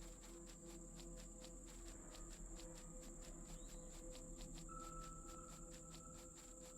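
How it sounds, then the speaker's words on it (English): Crickets in the video game Empyrion: Galactic Survival give off fast, rhythmic chirping pulses over a steady electronic ambient hum, with a high tone entering partway through. "I've been killing crickets while I'm out here"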